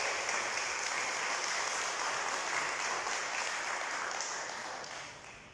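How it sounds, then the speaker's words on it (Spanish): A church congregation claps together in sustained, even applause that swells and holds, then gradually tapers off near the end. "Le damos un aplauso a Dios, hermanos."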